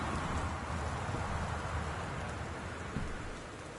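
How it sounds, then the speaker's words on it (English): Steady rain in the video game Gone Home hisses softly in the background, an even wash of patter with no voices. "Appears to be raining out there."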